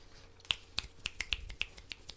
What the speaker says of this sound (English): Jazz claps.